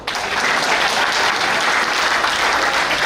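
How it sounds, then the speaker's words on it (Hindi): Steady, dense applause from an audience at a Hindi patriotic kavi sammelan poetry recital, loud and continuous throughout with no pauses. "ताली बजाओ"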